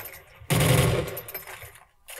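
A 12-gauge shotgun from Call of Duty: Advanced Warfare fires one loud, close, booming shot with a sharp attack and a long rumbling decay, followed by a faint mechanical tail.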